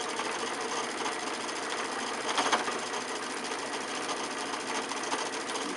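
A sewing machine stitches a quilt block for an hour glass pattern, running in a steady continuous whir with a brief louder burst midway, close and alone.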